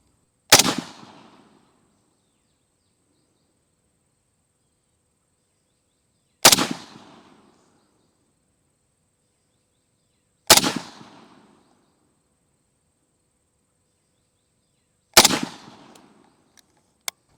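An M1 Garand rifle fires four single shots at a target during a live shooting test outdoors. Each sharp, loud crack arrives several seconds apart and decays quickly into silence, with a faint click near the end.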